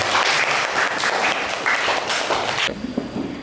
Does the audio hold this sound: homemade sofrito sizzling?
no